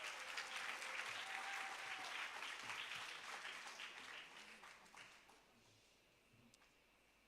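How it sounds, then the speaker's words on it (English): Audience applause for a grade 6 teacher at a junior school graduation ceremony, a steady roomful of clapping that gradually thins and fades away over several seconds. "Let's give her a round of applause."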